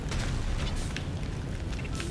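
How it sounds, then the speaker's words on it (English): Rumbling blasts and low booms sound in the sci-fi horror video game Dead Space, a heavy, noisy roar with a few sharper bursts layered over it. "We have explosions for days down here."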